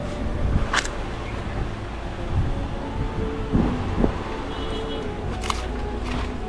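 Strong wind blows across hills on the road to Munnar, a steady broadband rush with gusty swells and microphone buffeting throughout, with no voices.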